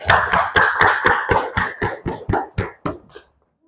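Schoolchildren in an Indonesian classroom clap together in unison, about a dozen sharp, evenly spaced claps that speed slightly and then stop, close and loud.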